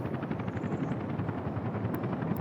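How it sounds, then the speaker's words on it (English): Helicopter arriving in the city-building game Workers & Resources, a steady loud rotor thrum with broad low rumble that holds evenly throughout, with no talk. "We've got a helicopter coming in, I believe."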